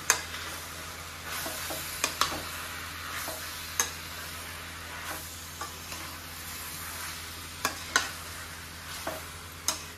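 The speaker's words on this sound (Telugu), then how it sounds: "మొత్తం ఇట్లా తిప్పుకొని ఫ్రై చేసుకోవాలి।" Boiled mutton boti frying on high heat in a pan with masala, stirred continuously. A steady hiss of sizzling is broken by about a dozen sharp, close scrapes and clinks of the spatula, with no one talking.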